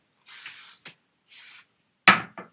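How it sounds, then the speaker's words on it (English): Hairspray from an aerosol can sprayed onto hair in short hissing bursts, two longer sprays and several quick puffs, close and clear with silence between them. "So that is why I do the hairspray"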